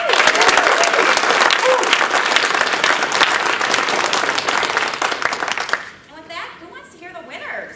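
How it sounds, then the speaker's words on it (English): Loud, sustained applause from a Toastmasters speech contest audience fills most of the clip, then fades into a few scattered claps and a voice starting to speak. "So I'd like to give them a round of applause."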